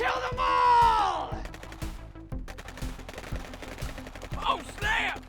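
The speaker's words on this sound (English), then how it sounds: "Open fire! Kill them all!" Movie gunfire from a post-apocalyptic shark action film: rapid machine-gun bursts and scattered shots crackle loudly, with shouting voices and effects layered on top.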